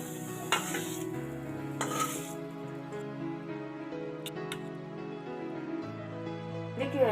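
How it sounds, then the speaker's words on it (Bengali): Bathua greens fry in a pan with a soft, steady sizzle, broken by a few scraping stirs and light metallic clinks of a spoon against the pan. "ভালো করে ভেজে নেব শাকটাকে"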